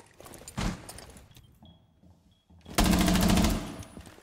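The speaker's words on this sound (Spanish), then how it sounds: "¿De dónde mierda me están disparando?" Gunfire in the video game Rainbow Six Siege comes as two loud bursts of rapid automatic shots, one short and one longer, with quieter game noise in between.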